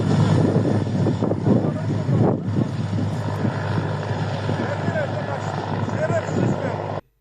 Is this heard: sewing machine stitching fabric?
no